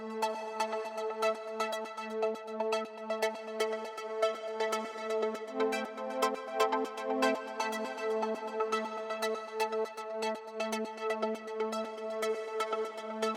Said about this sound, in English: this synth sequence that we have here, it sounds like this